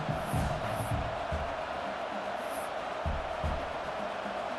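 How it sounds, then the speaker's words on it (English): Stadium crowd noise from College Football 26 fills the background as a broad, continuous roar with scattered cheers and whoops rising before a field goal attempt. "This crowd trying to do its part to get inside the kicker's head."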